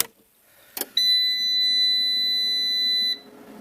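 An inverter gives one long, steady electronic beep of about two seconds as it powers up, preceded by a short click, close and clear with no talking.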